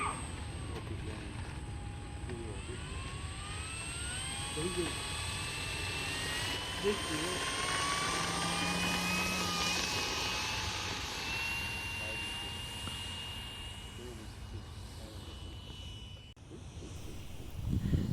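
Flightline F4U-1D Corsair 1600mm RC model airplane flying overhead, a steady whining motor drone with rising and falling pitch as it passes, continuous through the whole stretch with outdoor background noise.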